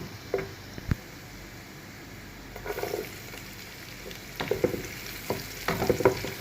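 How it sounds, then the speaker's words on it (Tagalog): Onion frying in a pan for sopas, a soft steady sizzle with intermittent scraping stirs growing busier toward the end. "Haluin lang natin siya hanggang maging brown din yung onion."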